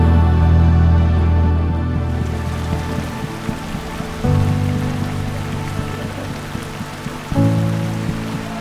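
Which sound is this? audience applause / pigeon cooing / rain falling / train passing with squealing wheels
rain falling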